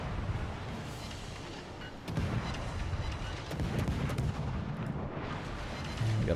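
Heavy naval gunfire from a Khabarovsk destroyer in World of Warships, with deep booming salvos over a steady rumbling game background, firing in several loud bursts and no talk heard.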